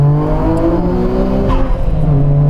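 A 2020 Nissan GT-R 50th Anniversary Edition accelerates hard after a downshift, its engine note loud and close, rising and shifting pitch continuously over a few seconds with no talking.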